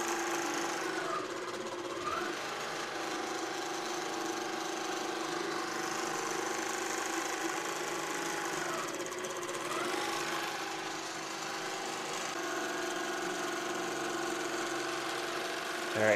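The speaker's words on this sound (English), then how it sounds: "Press continue. The machine will do its stitching." INNOVA AutoPilot longarm quilting machine stitching along a quilt's sashing: a steady, dense mechanical drone with a constant rapid stitching buzz that holds unbroken throughout, close and fairly loud.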